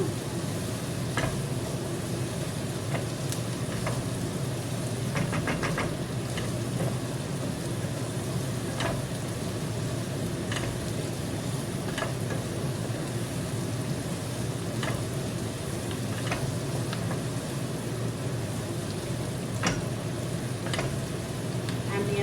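Mutton frying in a pan, a steady close sizzle with occasional scraping clicks of a spoon stirring, no talking.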